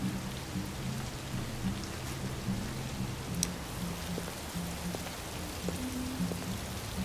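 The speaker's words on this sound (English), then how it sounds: "Oh, but it's raining." Steady, dense rain falls throughout a Detroit: Become Human game scene outside a bar at night, with a low droning hum beneath the downpour and a few faint distant rumbles, and no voices.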